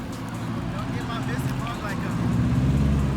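An Audi S7 drives by on a Detroit street, its engine a low steady rumble that grows louder toward the end, heard amid surrounding traffic noise.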